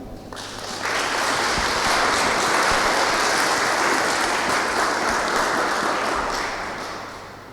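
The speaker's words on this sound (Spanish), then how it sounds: "la recibimos con un fuerte aplauso" An audience at a lecture in a city museum in Santa Cruz welcomes a speaker with strong applause, dense clapping that swells quickly, holds loud and steady for several seconds, then fades gradually.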